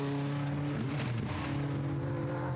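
TVR Challenge race cars at Castle Combe or Oulton Park, engines roaring steadily at a distance throughout under a constant wash of track noise, with no distinct single pass-by standing out.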